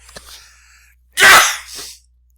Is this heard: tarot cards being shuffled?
no